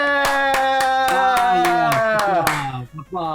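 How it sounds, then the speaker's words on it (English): Clapping hands applause with regular loud claps over music-like tones, ending abruptly. "Applause"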